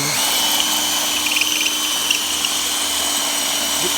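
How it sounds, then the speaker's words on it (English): A power drill whirs continuously at a steady high pitch, loud and close, grinding through wood without pause. "I'm going to stick my drill right in that hole, and it's going to guide me through"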